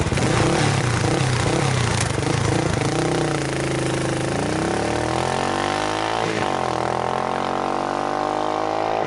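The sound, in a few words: single-cylinder motorcycle engine chugging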